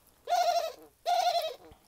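Two drawn-out dove coos, close and clear, separated by a brief pause, with no other sounds around them.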